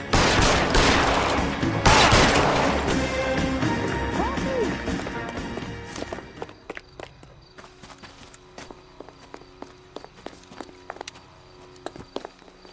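Dense, continuous gunfire in the video game L.A. Noire, then a scattering of sharp isolated shots and clattering impacts as the barrage thins, with game music and effects underneath.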